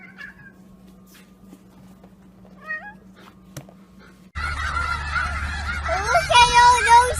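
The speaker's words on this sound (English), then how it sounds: "Look at all those chickens." Geese honking loudly and repeatedly in a noisy burst that starts abruptly midway, following a quiet stretch of faint scattered calls.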